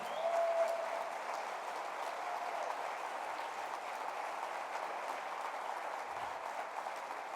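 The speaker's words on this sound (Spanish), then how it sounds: "Dale un aplauso fuerte al Señor" A church congregation gives a loud round of applause, a sustained, even roar of many hands clapping heard from a slight distance, fading gradually toward the end.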